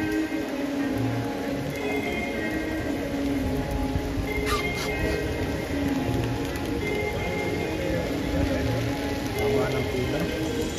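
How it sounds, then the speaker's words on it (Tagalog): Heavy rain falling in Vatican City beside a long waiting line, a steady wash of patter lasting the whole stretch, with a bird cooing and people talking faintly nearby. "Kahit na ulan"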